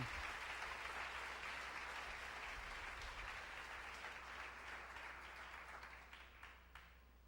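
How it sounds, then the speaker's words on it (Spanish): Church congregation applauding at a sermon, a dense, steady wash of many hands clapping together that holds evenly and then thins and fades toward the end. "Levante un aplauso bien grande"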